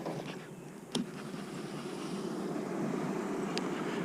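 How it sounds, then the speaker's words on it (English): Bees buzzing at a beehive, a steady low drone that grows slightly louder, with a couple of short sharp clicks from handling the equipment. "Quite a bit of bees."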